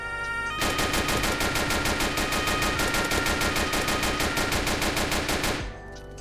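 Automatic gunfire in the police video game Emergency Hamburg fires as a rapid, evenly spaced burst of loud shots lasting about five seconds, then cuts off abruptly.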